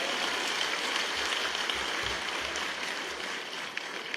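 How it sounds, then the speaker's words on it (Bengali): A crowd applauds at a political gathering in Bangladesh, making a steady, dense wash of clapping that holds at an even level throughout. "একটা হাততালি দেন তো জোরে।"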